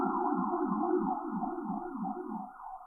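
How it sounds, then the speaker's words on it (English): Emergency vehicle sirens wail in a steady, rising-and-falling pattern, loud and close, fading slightly as they pass. "oh wow, the sirens are really loud."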